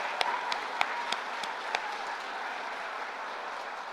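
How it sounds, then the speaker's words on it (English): An audience at the Colorado state finals of the National Civics Bee applauds the student finalists, a dense, even roar of clapping with a few louder claps standing out early, heard from some distance. "Let's give them a real huge round of applause."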